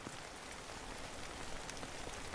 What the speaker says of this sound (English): Oh god, it's raining already.